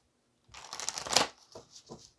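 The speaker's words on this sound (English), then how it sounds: "I'm actually going to get one more of these cards" Tarot cards riffled and slid during a reading, a papery flutter building to a crisp peak, then a couple of lighter soft card shuffles, close and quiet with no talk.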